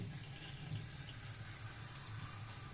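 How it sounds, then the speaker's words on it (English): Steady flow of water from an opened home faucet pouring into a sink, a continuous even rush with no one talking. "the first one is to open your faucet"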